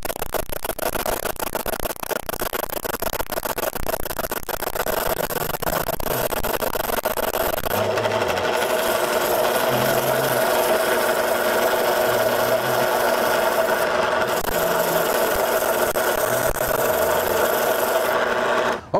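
A Ring Master machine sands a wooden picture frame, giving a loud, continuous rasping grind that holds steady for the whole stretch with brief dips in pitch.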